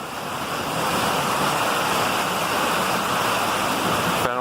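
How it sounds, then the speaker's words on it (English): Dense, steady roar of heavy rain from a storm pouring down on a leaky roof, a continuous rushing hiss with no breaks, loud and close, ending in a brief clatter. "Oh yeah, it's storming now."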